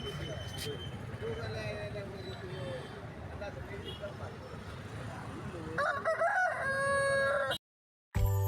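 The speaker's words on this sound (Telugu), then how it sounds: "బాబా అన్న దగ్గర ఈ డేగ పుంజు ఉంది" A Dega rooster crows loudly at a rural Sunday market, one long cock-a-doodle-doo near the end, with crowd chatter and background traffic underneath before a brief silence.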